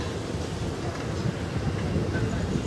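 Train running on a railway line near Hyderabad's Lalaguda, a steady rumbling roar from on board with rolling wheel noise, continuous and fairly loud.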